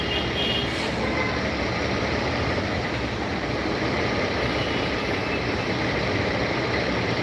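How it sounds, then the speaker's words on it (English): Road traffic with idling trucks and engines, a constant loud broadband rumble and hiss with no distinct events and no voices. "Look, it's traffic."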